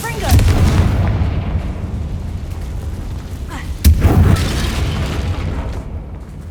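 The Confringo explosive spell in Hogwarts Legacy, cast in gameplay, bursts as two heavy booms, one at the start and another a few seconds later, each trailing into a rumbling roar over continuous background din.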